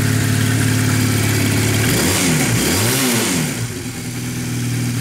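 A 2009 Honda Rebel 250 motorcycle with factory dual exhaust idles steadily up close, then blips its throttle in a couple of quick revs before settling back to a loud, even idle.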